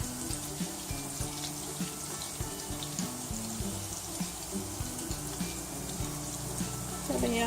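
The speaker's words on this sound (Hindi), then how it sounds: "चलिए ये हमारी फ्राइंग हो रही है" Galouti kebabs frying in a pan, a steady close sizzle and crackle with soft bubbling that keeps an even level throughout and swells slightly at the end.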